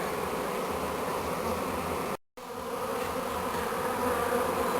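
Dense, continuous buzzing of a close honeybee swarm moving from a tree into a hive box, steady and loud, briefly cut out for a moment before resuming.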